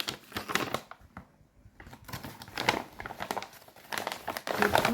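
Packaging wrap on a swap parcel crinkles and crackles loudly up close as it is pulled and torn open, in bursts with a brief pause partway through.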